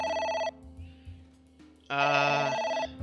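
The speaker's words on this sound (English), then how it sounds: "Oh, phone call." A telephone rings in the video game AI: The Somnium Files: a steady electronic ring, a brief pause, then a second louder ring, with no talking over it.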